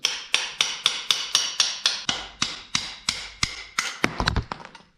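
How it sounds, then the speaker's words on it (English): Engine lifters are driven out from the back side with a modified extension punch and hammer during a Ford F-150 engine rebuild: about fifteen sharp, ringing metallic strikes in a steady rhythm that quicken into a rapid flurry at the end. "We're going to knock these lifters out from the back side because they only want to come out by force."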